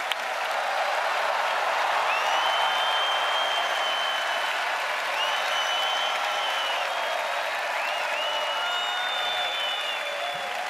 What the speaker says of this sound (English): let's give a big round of applause to all of tonight's performers.